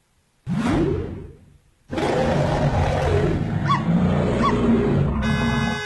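A roar effect for an angry bear bursts out loud and then tails off. After a short gap a second, longer roar follows, with whooshing layers mixed in.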